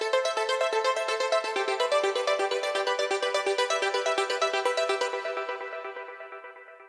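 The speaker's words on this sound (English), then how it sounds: "And Alchemy actually has a built-in arpeggiator right in it." A bright synth arpeggio from the Alchemy synthesizer's built-in arpeggiator in Logic Pro: rapid, evenly pulsing notes cycle steadily, then thin and fade toward the end.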